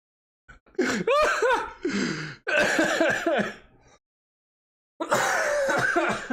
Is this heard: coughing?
yes